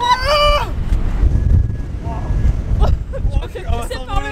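Strong wind in Iceland buffets the microphone in rough, rumbling gusts, loud and close, while people talk through it.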